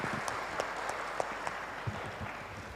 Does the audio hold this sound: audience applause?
yes